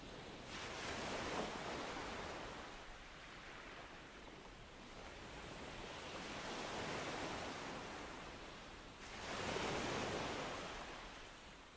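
Calm ocean waves breaking softly on a sandy beach, gentle rolling swells that rise and fade in slow cycles, a quiet, even wash with no talking.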